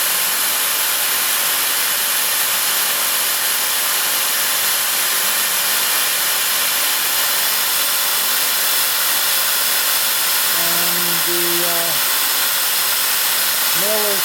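A mill cuts threads in the inserts of a cylinder head, producing a continuous loud, even machining hiss and whine that holds steady throughout.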